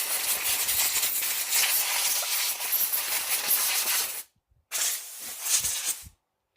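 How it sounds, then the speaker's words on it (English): Compressed air blasts sand off an ARRMA RC car after a beach bash, a loud, close, steady hiss lasting about four seconds, a brief cutoff, then a second shorter burst. "Use a lot of compressed air to blow the sand off first."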